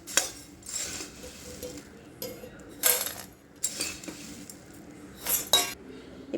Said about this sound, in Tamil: இப்போ இதை வந்து நம்ம ஒரு பவுலில் மாற்றிக்கலாம்